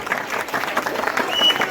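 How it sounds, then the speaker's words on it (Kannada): Audience applause for the parents at a Rajyotsava cultural event with Bharatanatyam dance groups, a steady burst of crowd clapping lasting under two seconds, fairly loud and close with faint voices mixed in. "ಪೋಷಕರಿಗೆ ಮೊದಲ ಚಪ್ಪಾಳೆ ತಟ್ಟಬೇಕು"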